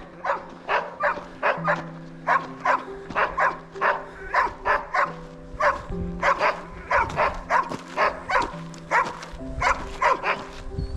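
Several dogs bark in quick, overlapping bursts, steady and fairly close, with yips mixed in and no pauses for the whole stretch.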